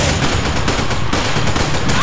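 Rapid, dense gunfire from many weapons in Resident Evil 5, a near-constant fusillade of overlapping shots running unbroken through the whole stretch.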